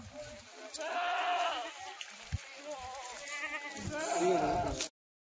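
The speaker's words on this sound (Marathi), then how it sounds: "हा बोकड आहे बघा." Several Kathiawadi goats bleat repeatedly, wavering calls close by, with a few knocks and faint voices between them before the sound cuts off.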